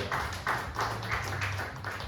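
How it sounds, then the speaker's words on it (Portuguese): Church audience clapping together in a steady rhythm, a quick run of even, loud claps with a low hum underneath. "Você pode aplaudir a ele."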